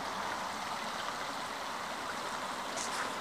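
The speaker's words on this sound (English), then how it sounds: "So you can actually hear the creek here." A creek rushes and burbles continuously, a steady hiss of flowing water heard close by with no other sounds.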